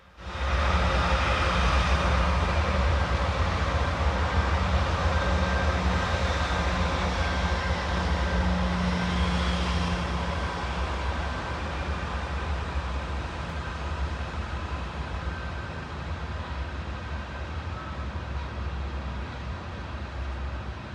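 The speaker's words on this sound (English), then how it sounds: "We watch as an eastbound Norfolk Southern manifest drifts through the fog to make a crew change at the pad." An eastbound Norfolk Southern manifest freight train rolls through fog just before midnight toward a crew change at Toledo Union Station, a loud continuous low diesel rumble and rolling roar that gradually eases, with no talk.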